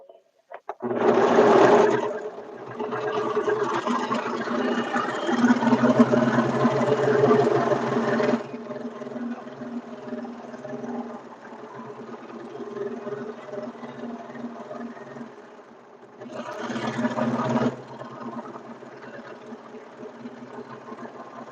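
A sewing machine stitches the back seam of a red shirtdress, a loud burst of rapid whirring, then a long steady run, a quieter stretch, and a short final burst, with no talk.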